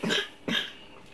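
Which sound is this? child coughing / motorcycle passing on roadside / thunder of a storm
child coughing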